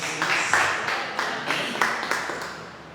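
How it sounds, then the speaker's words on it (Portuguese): Church congregation clapping in a hall, a moderate patter of hands with rhythmic accents, somewhat distant and filling the room. "Uma salva de palmas para Jesus."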